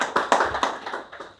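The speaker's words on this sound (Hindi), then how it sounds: "एक बार आप लोगों के लिए जोरदार" An audience claps at a tunnel safety training session, a short burst of fairly loud, sharp applause that fades out over about a second and a half.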